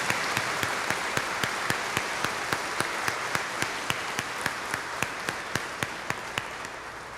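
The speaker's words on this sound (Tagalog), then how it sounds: "pasalubungan tayo pong masikan a palakpak" Applause greets a newly ordained priest at his ordination Mass, a steady crowd clapping that holds evenly throughout with regular sharp accents standing out above it.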